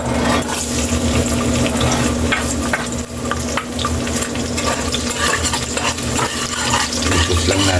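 Garlic sautéing in a pressure cooker, a loud steady sizzle of frying with scraping stir strokes and light clatter, close and continuous throughout.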